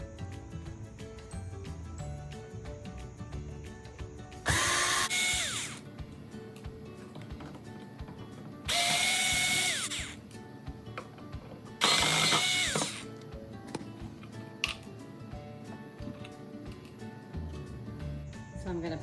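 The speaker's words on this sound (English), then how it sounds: "I'm using my awesome Black & Decker cordless drill." A Black & Decker cordless drill whirs in three separate bursts of a second or so each, removing door hinge screws from a curio cabinet, with quiet clicking and handling noises between them.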